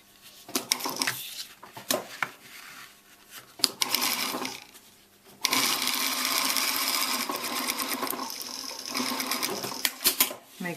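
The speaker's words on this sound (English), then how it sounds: "Make sure you do your back and forward stitching." A sewing machine stitches a fabric necktie in bursts of rapid mechanical whirring, short runs broken by clicks and pauses, then a longer steady stretch of stitching, close and fairly loud.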